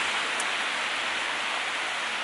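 Steady outdoor rain falls as an even, dense hiss throughout, loud and close with no voices present.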